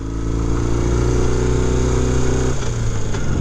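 A 1972 BMW R50/5 500cc motorcycle engine runs steadily at close range with a low, chugging hum, then shifts pitch as it changes speed near the end.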